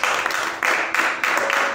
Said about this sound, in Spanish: Démosle un aplauso a Cristo.